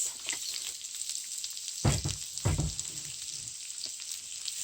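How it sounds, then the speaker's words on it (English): Onions sizzle and crackle steadily in hot ghee in a pan outdoors, with a couple of louder bursts as something is stirred or added. "You can hear them sizzling."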